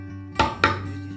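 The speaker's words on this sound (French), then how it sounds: "donc un petit coup de ciseau avant" A wood chisel struck twice into wood at a mortising job, two sharp close taps about a quarter second apart, each ringing briefly against a quiet steady hum.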